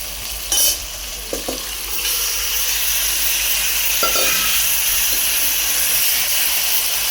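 Country chicken pieces going into a hot pan of sautéed onion, tomato and garlic, starting with a few clanks and stirring knocks before a steady loud sizzle and hiss takes over and continues without speech.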